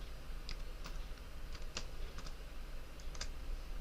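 Scattered keystrokes tap on a computer keyboard as text is entered into a statistics program, a few light clicks spaced apart over a constant hiss and no speech.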